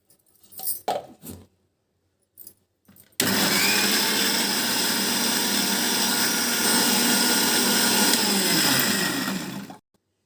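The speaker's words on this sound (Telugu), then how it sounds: "ఇప్పుడు మిక్సీ పట్టుకుందాము" A kitchen mixer grinder whirs loudly for about seven seconds as it grinds tomato, ginger and garlic, starting abruptly and stopping near the end, after a few brief faint knocks and handling sounds.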